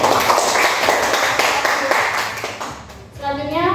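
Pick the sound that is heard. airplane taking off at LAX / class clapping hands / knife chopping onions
class clapping hands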